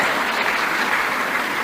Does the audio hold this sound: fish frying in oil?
no